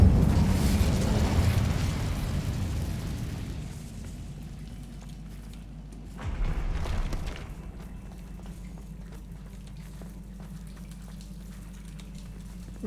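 A fiery Incendio spell blast erupts in Hogwarts Legacy, a loud booming burst up front that fades into a low rumbling tail, with a second smaller whoosh around midway.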